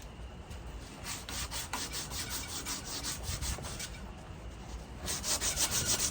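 A knife blade is rubbed against a torn, rough-grit sandpaper belt and a pine knot, producing a continuous dry scratching with a quick back-and-forth rhythm, close and fairly quiet, with no speech.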